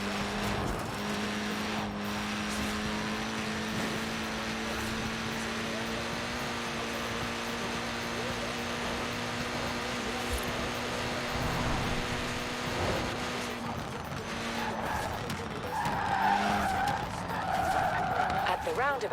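A Mini Cooper S in Forza Horizon 4 drives hard with a steady engine drone and sustained tyre skidding and squeal, while someone narrates over it throughout.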